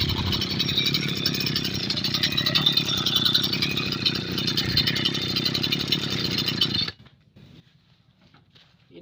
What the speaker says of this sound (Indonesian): Ini udah sekitar 7 tahunan ini mesin, tapi masih bagus suaranya.